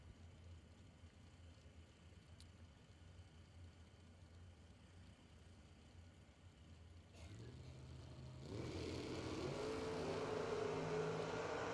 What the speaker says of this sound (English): Pair of Corvettes doing battle.